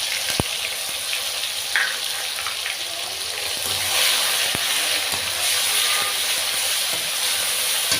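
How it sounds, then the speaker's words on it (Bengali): Fish curry spice paste of ripe tomato, chili, cumin, ginger and coriander sautéing in a pan, giving a steady close sizzle and hiss throughout with a few small pops. "এটাকে ভালো করে আমি কষিয়ে দেব"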